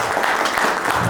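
Wedding guests at an earring-giving engagement celebration applaud together, a dense, steady burst of clapping from a sizeable group that fills the brief moment without speech.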